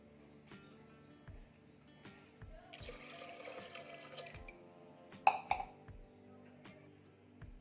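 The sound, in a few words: water being poured into lentil curry (amti)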